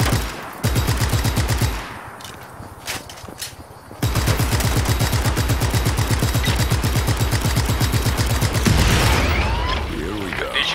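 Rapid automatic gunfire rattles loudly and nearly nonstop in a shooter video game, a fast mechanical stream of shots with a brief pause early on, and faint voice chatter underneath.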